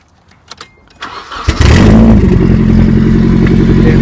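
A Nissan 240SX with a hollowed-out catalytic converter cranks with a few clicks and whirs, then fires at about 1.5 seconds into a loud, steady, rumbling idle heard up close outdoors.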